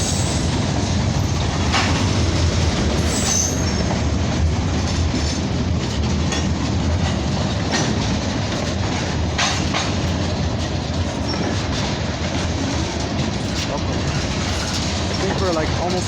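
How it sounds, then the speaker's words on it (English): A long CN freight train rolls past near Dorval, a loud continuous rumble with steady clattering wheels and occasional squeal-like highs for the whole stretch, with some talk faintly underneath. "A very long train, I should say."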